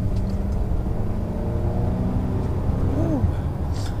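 A 2018 Volvo XC60 Inscription with a supercharged and turbocharged engine pulls away under acceleration inside the cabin. A steady low engine drone rises in pitch with a brief upward sweep near the end, and a quiet voice sits underneath.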